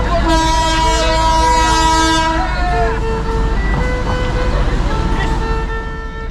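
Darjeeling Himalayan Railway toy train at Sukna station, its horn sounding loud and close in sustained toots over a rumbling running train, with a shorter toot near the end.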